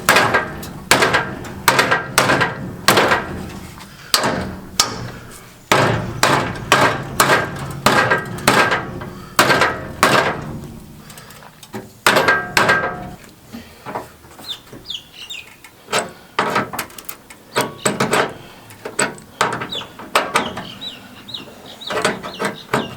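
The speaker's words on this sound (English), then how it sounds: "Fine tuning hammer." Repeated sharp hammer knocks on wood, loud and close, coming in bursts with short pauses between groups of strikes.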